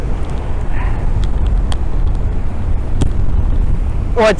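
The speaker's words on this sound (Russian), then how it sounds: "Очень сильный ветер, большие волны" Strong storm wind roars steadily across a Crimean seafront during a fierce storm with big waves, a dense, continuous rumbling buffet against the microphone with no clear pauses.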